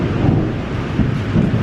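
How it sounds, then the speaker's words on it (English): Loud, steady low rumble of thunder from a thunderstorm, continuous and broad, with wind buffeting the microphone throughout. "Oh yeah, thunderstorm, yeah, sky."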